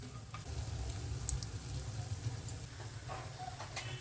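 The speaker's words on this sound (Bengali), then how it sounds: "তেলটা গরম হয়ে গেছে বড়িটা ছেড়ে দিই" Bori, sun-dried lentil dumplings, frying in hot oil for a spinach curry, a steady low sizzle and crackle with a few sharper pops, close and fairly quiet.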